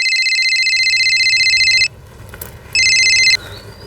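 A telephone rings loudly with a bright electronic trilling tone, one long burst, a short pause, then a second shorter burst, up close with no voices.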